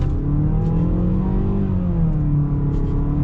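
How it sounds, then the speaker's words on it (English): A 2022 Mazda CX-5 Select pulls away under acceleration, its engine note rising steadily in pitch and holding loud and close for a few seconds, with no talking over it. "we'll see coming around here and getting our acceleration."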